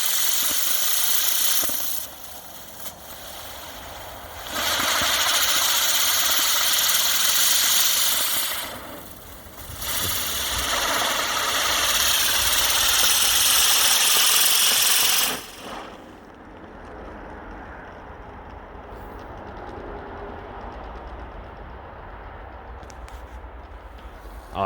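Spinning firework whirring loudly in bursts, with a strong hissing roar that surges and fades several times before cutting off, followed by quieter background noise.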